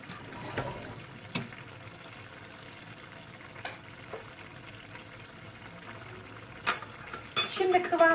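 A pot of madımak (knotweed stew) bubbles and sizzles steadily, with occasional clinks and stirring noises, close by and fairly quiet.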